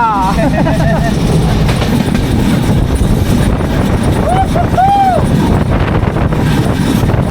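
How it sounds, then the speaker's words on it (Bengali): An express train runs from Dhaka to Panchagarh, its loud, steady rumble of carriage noise filling the whole stretch with faint rail squeals near the end. Voices can be heard over it. "we are travelling through a express train"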